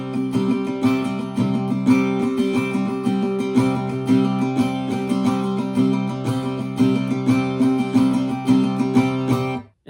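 Acoustic guitar strums steadily through the first line of the second chorus of a song, old phone pub version, a dense, continuous rhythmic pattern played close and alone until a sudden stop.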